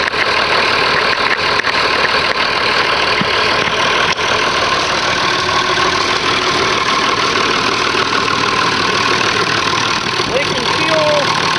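White 263 diesel engine idling steadily after an injector pump swap, with fuel leaks at the shut-off and throttle shafts, a continuous close-up mechanical drone with a brief squeal near the end.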